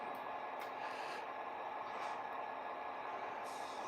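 Air brake release on a model train's sound system running on a New England industrial layout: a steady, loud hiss of escaping air holds for about four seconds with no voices.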